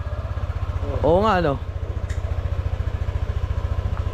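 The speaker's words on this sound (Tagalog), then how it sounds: "Ah, mukha ng motor yung tunog niya." A motorcycle engine idles nearby with a steady low pulsing thump throughout, while a person speaks briefly over it and a short rising-falling voice passes partway through.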